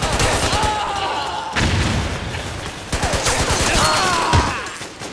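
Gunfire in the online shooter Metal Gear Online, a dense barrage of shots and bursts running throughout, loud and close, with faint voices in the mix.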